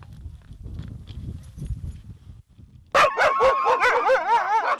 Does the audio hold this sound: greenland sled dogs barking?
yes